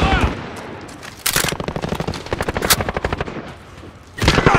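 Rapid automatic gunfire from Call of Duty: Modern Warfare (2019) multiplayer, a P90 among the guns, rattling in dense bursts with sharp louder shots over game chatter and background noise.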